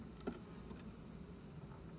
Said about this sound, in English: Package of bees, same as the first one we checked.